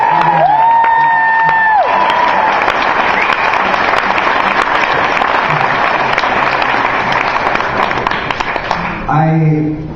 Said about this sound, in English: Let's hear it again for Casey Turner.